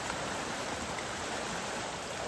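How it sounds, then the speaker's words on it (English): The River Teign rushes steadily along its upper reaches near a gauge, a continuous broadband roar of fast, rough water with no breaks, close and fairly loud, with no voices over it. "But the river is looking beautiful."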